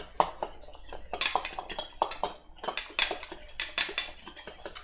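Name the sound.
whisking water and cornstarch together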